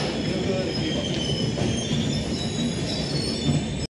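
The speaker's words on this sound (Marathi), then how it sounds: "आली ट्रेन आली." Crowded passenger train pulling into a station during Ganpati festival travel in Chiplun, with loud, continuous high-pitched wheel squeal and heavy rumbling close by throughout, and faint crowd voices underneath.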